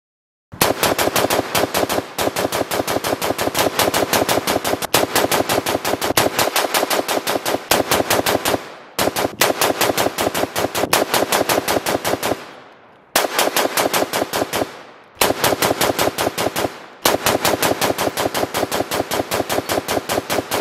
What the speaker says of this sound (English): I'm going to do 500 rounds as quickly as possible and see if I notice any issues.